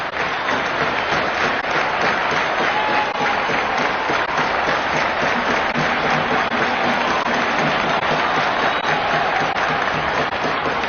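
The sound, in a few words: Cubs fans cheering at a baseball game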